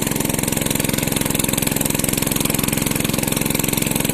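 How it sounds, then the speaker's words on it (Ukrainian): An engine holds steady medium revs while driving across a freshly ploughed field being harrowed to seal in soil moisture, giving a continuous, even, rapid chugging throb, loud and close, with no talk. "Отак потихеньку на середніх обертах і їздимо."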